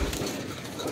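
A single soft, low pigeon coo, heard on its own at close range.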